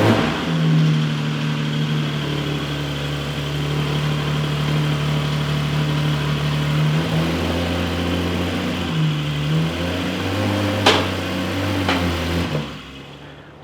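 A Porsche 718 Spyder's engine runs close by with a deep steady idle, rising and falling through a couple of revs, then brief sharp clicks before it cuts off; no talking.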